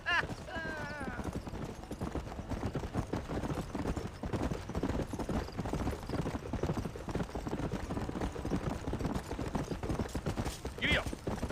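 Horse hooves clip-clop steadily through a Red Dead Redemption ride, with game speech and dialogue running over them and a brief whinny near the start.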